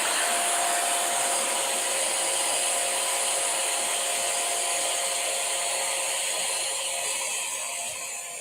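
An electric air duster blows air to inflate an air mattress: a loud, steady motor whine and rushing airflow, close and continuous, with no talk.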